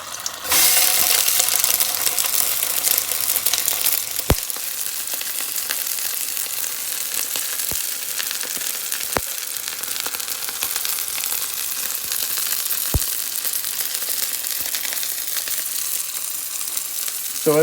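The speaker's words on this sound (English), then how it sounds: "skillet and see that really sizzle." Plant-based Beyond Sausage sizzles in a hot skillet, a steady close frying hiss running throughout with a few sharp pops and crackles, no talking.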